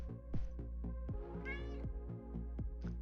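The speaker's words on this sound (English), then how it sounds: "startled the cat in his lap" A startled cat sitting in a man's lap gives a quick series of short, close meows and mews, some sharper and louder than others, with no voices over them.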